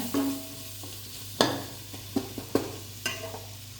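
Tomatoes hitting a hot pan for chicken curry, a quiet sizzle under a low hum, punctuated by a few sharp spatula clacks and scrapes against the pan.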